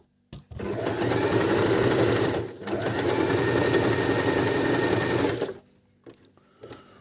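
A Janome Q33 sewing machine stitches in two close, loud continuous runs of rapid needle whirring, separated by a brief pause and followed by quiet handling clicks.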